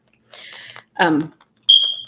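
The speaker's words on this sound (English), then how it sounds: "apologize for the very annoying beeping. It is the smoke detector" After a few short bursts of voice, a smoke detector gives a single sharp, high-pitched chirp.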